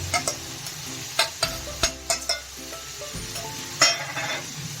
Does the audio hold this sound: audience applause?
no